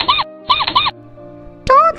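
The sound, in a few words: reader imitating a mouse squeaking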